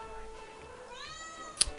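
A tomcat lets out a single drawn-out meow, close and clear, over a steady game soundtrack, followed by a brief sharp click near the end.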